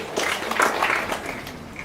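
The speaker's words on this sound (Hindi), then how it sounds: "एक के लिए जोरदार से तालियां हो जाए प्लीज लेडीज एंड जेंटलमैन" Guests at an engagement celebration break into brief applause, a short burst of many hands clapping together at moderate loudness.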